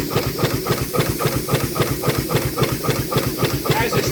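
A U.S. Navy K launch steam engine, a twin-screw type, runs with a steady rhythmic chuffing and hissing beat, close and fairly loud, its repeated strokes pulsing evenly throughout.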